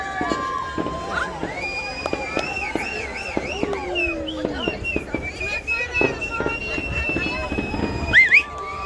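Fireworks over Sydney with thumping bursts and crackles under a lively crowd, with cheering, shouting, whistling and people talking close by throughout.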